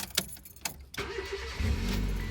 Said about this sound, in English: Now, car in neutral, we'll try and start it.